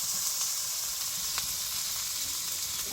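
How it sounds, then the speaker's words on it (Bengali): Masala paste being sautéed in a pan for a shol fish curry, a steady close sizzle and frying hiss with faint stirring scrapes, no voices. "মশলাটা কষানো হয়ে গেছে"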